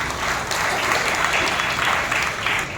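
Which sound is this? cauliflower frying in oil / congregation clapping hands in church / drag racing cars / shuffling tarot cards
congregation clapping hands in church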